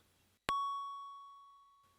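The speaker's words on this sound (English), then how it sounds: "That's a little sound the chip can emit when it's initialized." Commodore 64 SwinSID Ultimate sound chip emitting its startup beep on initialization: a single clean electronic tone that starts abruptly and sustains, slowly fading over about a second and a half, faint and alone.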